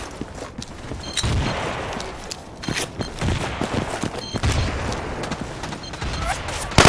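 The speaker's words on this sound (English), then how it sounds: "Throwing frag! Throwing frag!" Battlefield 2 combat soundscape with a frag grenade: several loud blasts and gunfire bursts crack out across the clip, amid continuous battle noise and a sharp boom at the very end.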